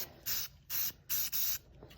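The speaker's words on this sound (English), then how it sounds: "and I give them another little spray" A spray bottle mists dog-grooming scissors and tools in four quick, even bursts, each a crisp hiss about a quarter second long, close and fairly quiet.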